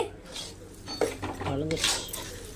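Onions stirred into rice flour dough for kozhukattai in a metal pan, giving soft scraping and clinking utensil sounds at close range with faint background noise.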